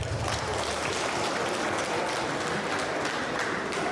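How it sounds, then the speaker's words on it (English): Large outdoor crowd at a political rally in Navrongo claps for themselves, a continuous, dense roar of applause and crowd noise at steady volume without pause. "Clap for yourself."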